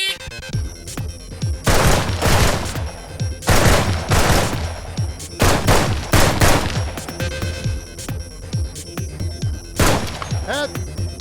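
AR15 rifle fitted with a Trijicon MRO red dot fires on close-range and mid-range steel targets, with loud, sharp shots coming in quick bursts and steady strings, several shots fired in rapid succession across the stretch.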